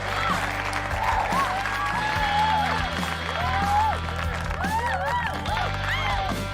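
A crowd applauds and cheers with steady, dense clapping, with whoops and voices mixed in throughout.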